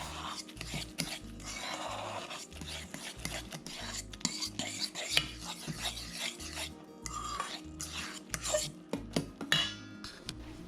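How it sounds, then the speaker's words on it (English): Honey mustard meatloaf glaze is stirred in a bowl, with rhythmic scraping and rubbing strokes of a utensil against the bowl repeating steadily up close over a low hum. "Mix that together and set aside."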